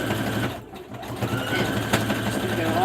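A sewing machine stitches around the edge of a sweatshirt with a fast mechanical whirr and rapid needle clatter, close by, briefly dipping before running on steadily while someone speaks softly.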